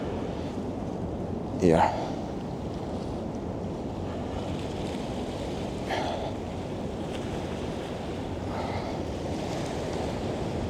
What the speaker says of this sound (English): Ooh, the wind is freezing cold.